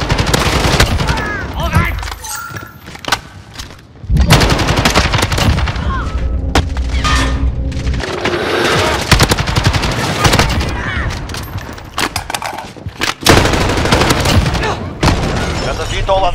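Continuous loud StG 77 rifle fire in Modern Warfare 2019 on PS5, with rapid automatic bursts and booming impacts layered over game noise, broken only by brief lulls.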